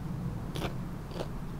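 Two crisp, brief crunches as someone bites into raw, garden-grown okra, sharp and close, spaced about half a second apart over a steady low background hum.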